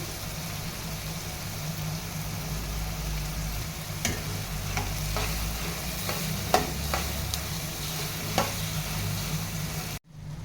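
Green chili, yellow and red capsicum and tomato stir-fry in a hot pan for a white Italian pasta, giving a steady close sizzle with occasional sharp utensil clicks and scrapes, then cutting off abruptly near the end.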